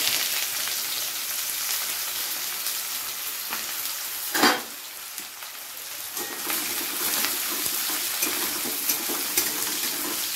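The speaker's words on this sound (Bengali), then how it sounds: "এবারে আমি প্রথমে তেলের মধ্যে দিয়ে দেবো পেঁয়াজ কুচি" Chopped onions drop into hot oil in a pan and fry with a dense, steady sizzle, broken by a sharp clatter as they go in and light stirring scrapes, close and continuous with no speech.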